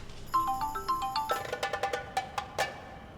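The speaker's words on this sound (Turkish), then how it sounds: "benim telefon çalıyor" A mobile phone plays a bright electronic ringtone, a tinkling melodic phrase followed by a run of sharp repeated chimes, loud and close with no talk.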